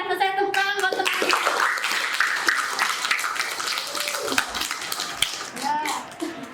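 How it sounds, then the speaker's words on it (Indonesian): A classroom group claps in a brisk burst of applause, with children's voices and chatter mixed in close by. "tepuk tangan buat teman"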